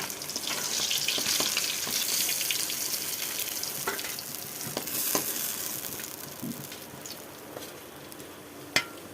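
Fish fries in hot oil in a home kitchen for a Bengali dish, giving a steady close sizzle with scattered pops and crackles and a sharp snap near the end.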